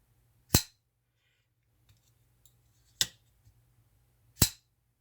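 A CRKT assisted-opening knife snaps its blade open three times, each a sharp, loud close click-thwack separated by quiet gaps, with faint small handling clicks in between.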